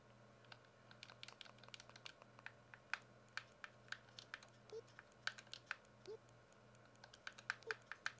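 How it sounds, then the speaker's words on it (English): Rapid irregular clicks and taps from a game controller's buttons while entering text, sharp little bursts in uneven clusters, close and quiet over a faint steady hum. "I hate typing on this. It's so annoying with a controller."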